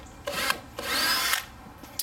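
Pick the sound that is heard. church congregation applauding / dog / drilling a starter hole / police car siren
drilling a starter hole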